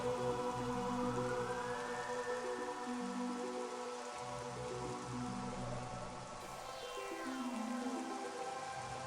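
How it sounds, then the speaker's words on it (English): Rain falls on a visor on an alien planet in Metroid Prime, heard as a soft, steady patter under a sustained, slowly shifting ambient drone of layered tones. "Just standing here on this alien planet while the raindrops fall on your visor is just such a vibe."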